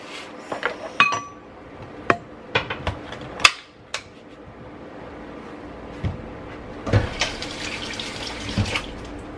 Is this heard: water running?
yes